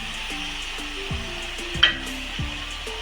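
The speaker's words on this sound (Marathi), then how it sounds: "ही थोडीशी परतून घेऊया ग्रीन चटणी" Green chutney with ginger and garlic being sautéed in a pan makes a low, steady sizzle with a few stirring scrapes and a single sharper clink, under soft background music and with no talking.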